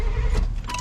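A 1992 GMC 1500 pickup with about 170,000 miles cranks over in a steady, loud engine churn at close range, with a brief higher whir near the end.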